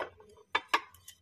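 Porcelain plates on a shop display being handled, a few short bright clinks and taps of ceramic, close and fairly faint, with soft handling noise between them.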